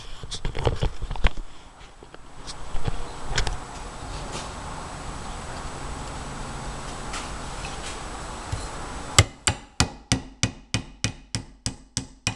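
A hammer drives a pin into a kama in a series of sharp, evenly spaced metallic taps near the end, following quieter shop handling noises and scattered knocks.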